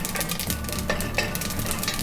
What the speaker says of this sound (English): The crackling of thyme.